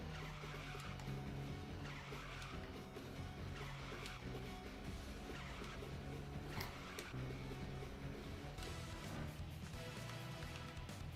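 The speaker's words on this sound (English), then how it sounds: "Did they use a blow-off valve for the handbrake sound?" In the video game Tokyo Xtreme Racer 2025, a car's handbrake is pulled repeatedly. Each pull gives a short, sharp whoosh like a turbo blow-off valve, heard over a constant engine drone and background music, with tire squeal around it.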